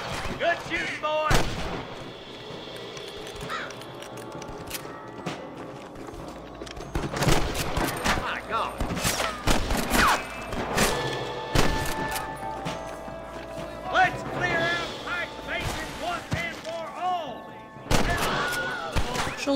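Gunfire in the Western video game Red Dead Redemption: sharp shots and thudding blasts come in bursts at irregular intervals over a busy game soundtrack, with voices talking in between.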